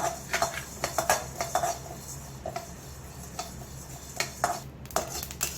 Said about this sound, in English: I'm going to add the jeera and the fenugreek seeds also and dry roast it